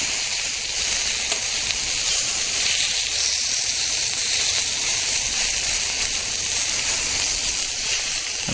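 Steak sizzling on a Mojoe griddle, a loud, constant hiss of frying close up, with no voices or pauses.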